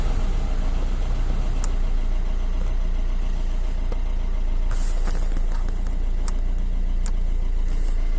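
Fiat Punto radiator cooling fan electric motor running steadily after a fan resistor replacement, a constant loud whirring drone heard close up with no talking.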